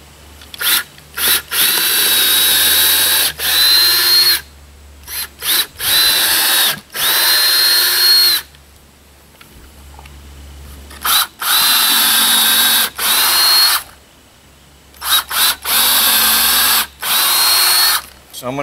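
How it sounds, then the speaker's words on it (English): A power drill drills through a wooden tiny-house floor frame in repeated bursts of a few seconds each, with brief pauses and quiet gaps between, loud and close. "So I'm just going to drill through the various points in the frame."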